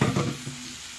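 Cabbage and tuna sautéing in oil in a pan, a short burst of close sizzling and stirring that fades to a softer hiss within a second.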